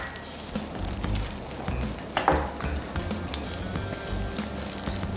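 Ginger pieces and garlic cloves frying in hot oil in a pan for curry leaf chutney, a steady close sizzle with occasional clinks of a spoon against the pan, no talk.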